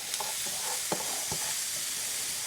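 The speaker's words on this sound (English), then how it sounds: "Now I'm going to come in with that sausage and just let that cook just a little bit in that bacon grease." Sausage browning in bacon grease in a pan gives a steady, close frying hiss, with a few scattered pops and stirring clicks, and no talk.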